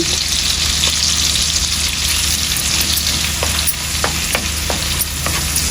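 Shrimp fry in a pan with a spice paste, giving a steady loud sizzle broken by a few sharp utensil clicks and scrapes of stirring.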